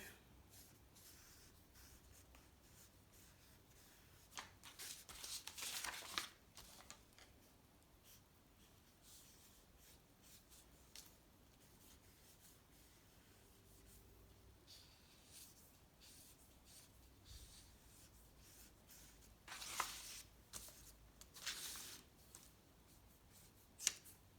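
A marker pen run along the edge of a sheet of paper to draw a border, giving faint scratchy squeaking strokes in short bursts, quiet and close with no talk.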